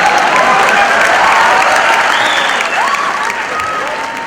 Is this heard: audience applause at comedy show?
yes